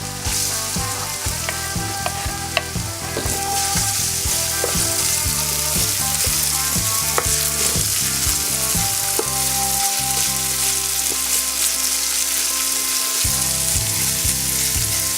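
Ginger fries in a hot pan with a loud, continuous sizzle, accompanied by occasional scraping and stirring noises; no one speaks.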